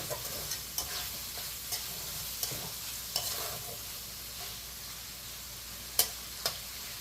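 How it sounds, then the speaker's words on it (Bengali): Prawns sauté in a pan for a bottle-gourd prawn curry, giving a steady low sizzle punctuated by regular scraping stirs and a few sharp clinks of the spatula, close and alone. "কষানো হয়ে আসছে মাছটা"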